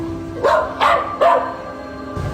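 Riley, a dog in a paranormal video game, lets out three spaced, loud barks with a whimpering, growly edge over a steady low hum.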